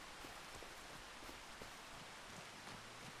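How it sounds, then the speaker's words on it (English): Rain pours in the Farming Simulator 25 video game, a constant, uniform patter and hiss of drops hitting surfaces, fairly quiet and unbroken. "I hate rain."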